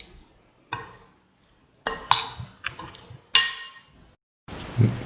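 Spoon stirring salt and yogurt through cottage cheese and tomato in a bowl, giving several separate clinks and scrapes in short bursts, with a duller thump near the end.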